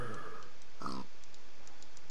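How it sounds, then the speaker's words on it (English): Pigs oinking in Minecraft: a short grunt at the start and another clear oink near the middle, faint and isolated over quiet game ambience. "I hear pigs"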